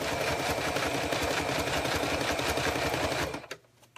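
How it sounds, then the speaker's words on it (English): Sewing machine top stitching a long zipper piece, a close, steady rapid needle chatter running continuously before stopping abruptly near the end. "So I'm just top stitching"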